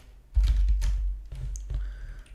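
Rapid bursts of keystrokes clatter on a computer keyboard, close and clear, in short runs separated by brief pauses.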